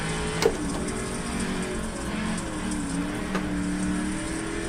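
A race car in iRacing brakes hard and slides sideways into a corner, its engine note steady and loud with tonal whine shifting in pitch and a brief sharp transient near the start.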